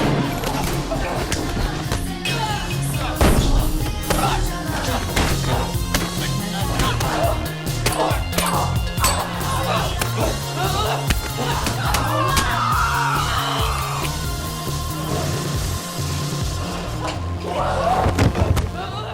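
Fistfight in a film, a run of heavy thuds, whacks and body impacts at irregular intervals, punchy and close, with scuffling and occasional voices mixed in.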